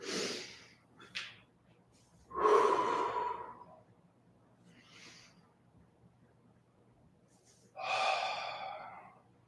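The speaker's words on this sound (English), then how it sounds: "Breathing through it." Deep breathing during a follow-along desk-worker stretching routine: several slow, audible inhales and exhales, close and airy, spaced a few seconds apart with quiet gaps between them.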